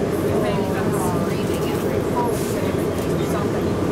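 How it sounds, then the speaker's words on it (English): Hartsfield-Jackson Atlanta International Airport Plane Train pulling away between concourses, a steady, dense rumble of the people mover filling the space at even loudness, with voices faintly mixed in underneath. "This train is departing."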